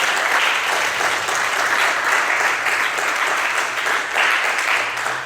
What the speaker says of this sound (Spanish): Si usted le cree, déle una ofrenda de palmas a Jesús.